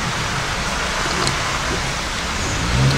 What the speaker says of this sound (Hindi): अभी पूरा बारिश गिर रहा है